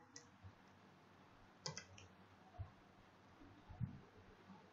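A few soft, faint computer mouse clicks sound in a quiet room, spaced irregularly with short dull taps between them.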